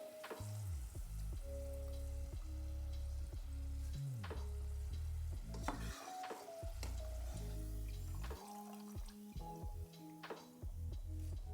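French fries fry in hot oil with a steady crackling sizzle, broken by utensil clinks and stirring sounds from pots and pans, and low tones humming beneath.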